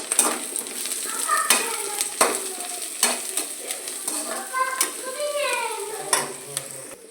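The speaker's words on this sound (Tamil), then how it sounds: "இப்போ இதை வதக்கிக்கலாம்" Crushed spices sautéed with golden fried onions for a crab fry, steady sizzling in the pan with rhythmic scraping and clinking of a ladle against metal, close up, with faint tonal rings between strokes.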